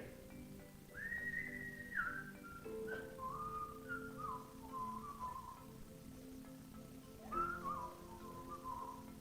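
A person whistles a bright, wavering melody in short phrases, close and clear, with a low background hum and no talking.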